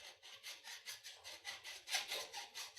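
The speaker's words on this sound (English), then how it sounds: "Remove all burrs with a file before removing the saw guide." File rasping burrs off the cut end of a metal waveguide, a quiet, regular series of about fifteen back-and-forth strokes in a steady rhythm, close and alone.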